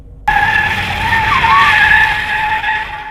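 A car skids out of control in a sound effect: a sharp onset, then a loud sustained tire screech with wavering pitch, holding steady for about three seconds.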